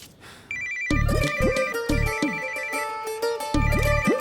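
A phone rings while a call is being placed, a melodic ringtone with repeating tonal phrases and buzzy pulses, loud and clear with no talking over it.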